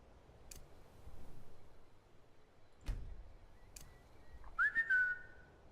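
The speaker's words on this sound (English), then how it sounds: "I'm whistling for you." A game character whistles for a companion in Skyrim: a short rising-then-level whistle near the end, after faint clicks and a brief thump, with quiet ambient background.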